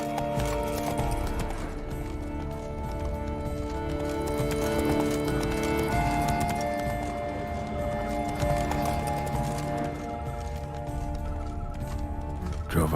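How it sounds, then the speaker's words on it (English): Rapid, rhythmic hoofbeats of a galloping horse in The Witcher 3: Blood and Wine, steady and close over a continuous musical backdrop, with a brief snort near the end. "Roach. Run, Roach"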